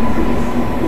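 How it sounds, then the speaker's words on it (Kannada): A Kacheguda–Mysuru train arrives at Yelahanka railway station with a steady, loud rumble and a faint tonal whine over it. "ಕಾಚಿಗೂಡೆಯಿಂದ ಮೈಸೂರಿಗೆ ಹೋಗುವ ಟ್ರೈನ್ ಸದ್ಯಕ್ಕೆ ಬಂದಿದೆ ಯಲಹಂಕ ರೈಲ್ವೆ ಸ್ಟೇಷನ್ಗೆ"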